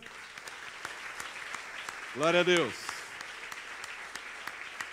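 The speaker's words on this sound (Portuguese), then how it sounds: "Aplaude ao Senhor" A church congregation applauding the Lord at the close of a service, with steady, fairly quiet clapping and distinct individual claps throughout, and a voice briefly calling out over it midway.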